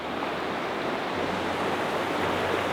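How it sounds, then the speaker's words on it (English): A small creek runs through snowy woods in single-digit winter cold, a steady broadband rush of flowing water heard close and continuous with no voices. "Got a nice little creek running through it."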